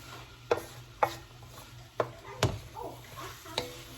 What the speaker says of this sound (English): just throw that in and let it get some of that seasoning and just get everything to frying